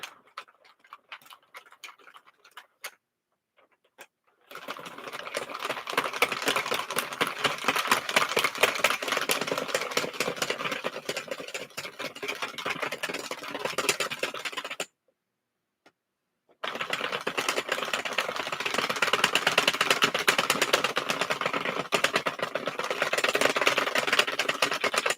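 A knitting machine runs late at night, its carriage pulled across the bed knitting fuzzy yarn, a steady rapid clatter of needles in long loud passes broken by a short pause, with no talking.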